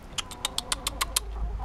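Chickens make a rapid series of about eight short clucks in a quick rhythm, fairly near, over a low background rumble.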